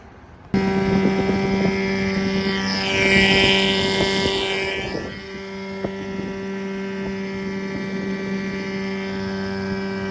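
Steady drone of a boat's outboard motor running out on a river, close and continuous, with a swelling rush of wind and water partway through.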